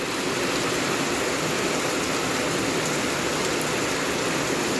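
Steady rain pours down, a dense continuous hiss with no pauses and no voices.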